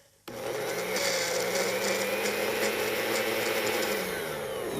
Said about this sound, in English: Come on, blender.